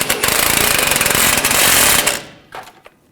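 An impact wrench or ratchet tightens the rear shock absorber nut and bolt on a 2014-2018 GMC Sierra, a loud buzzing mechanical burst of about two seconds, then a couple of brief clicks.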